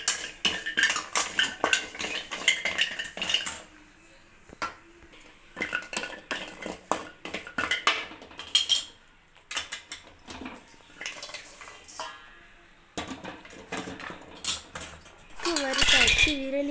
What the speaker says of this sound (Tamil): சுக்கு 100 கிராம் சேர்த்து நல்லா வறுத்து எடுத்துக்கலாம்.